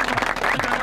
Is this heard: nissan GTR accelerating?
no